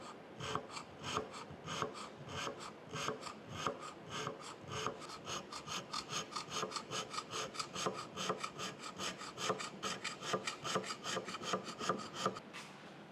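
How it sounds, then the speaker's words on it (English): A hand scraper works the cross slide dovetails of a Monarch 10EE lathe under restoration, giving quiet, close, rhythmic rasping strokes, evenly repeated throughout with no talk. "And now we'll come back from the other direction and scrape it out in this direction."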